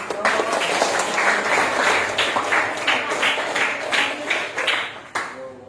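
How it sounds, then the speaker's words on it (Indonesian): Classroom applause from a group of students, dense and steady clapping filling the room for several seconds before tapering off near the end. "berikan tepuk tangan"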